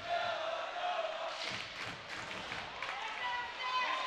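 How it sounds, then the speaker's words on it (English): Hometown crowd noise at a high school hockey game in an arena, a broad sustained roar of voices with rhythmic chanting swells and some clapping, loud and continuous throughout. "The chant begins again from the hometown crowd here."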